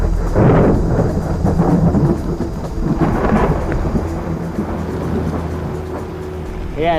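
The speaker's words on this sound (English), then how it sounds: "I hope that this storm can bring some more water." Thunderstorm over the Mekong River in Thailand, with low rolling thunder rumbles and steady rain across the whole stretch, loud and close.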